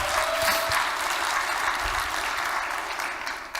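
Steady applause from a large audience, many hands clapping continuously at even volume throughout.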